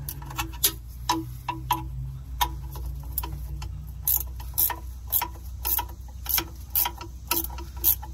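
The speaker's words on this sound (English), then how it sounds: "Now we're just going to take a 15 ratchet wrench and just finish these off." A 15 ratchet wrench unbolting transmission bolts on a 1996-2001 Dodge Ram 1500 5.9L, sharp rapid clicking in irregular bursts close by, over a low steady hum.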